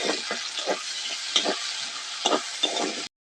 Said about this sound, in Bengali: এবারে এক বাটি পেঁয়াজ কুচি দিয়ে দেবো, দিয়ে পেঁয়াজটাকে একটু হালকা করে ভেজে নেবো।